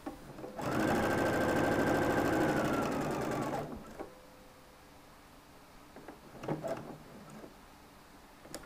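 Sewing machine stitching a seam allowance down on a shirt sleeve, one loud close run of rapid even stitching for about three seconds, followed by quiet fabric handling and a few soft clicks.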